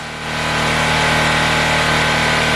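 A P2000 portable generator engine running steadily just after being pull-started, a loud close mechanical drone with a constant hum, no one speaking over it.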